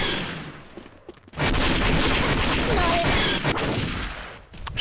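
Heavy automatic gunfire in the Star Wars Day of Defeat Source video game, starting after a brief lull and continuing loud and dense for several seconds before fading.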